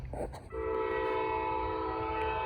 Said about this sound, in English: Pretty heavy train though.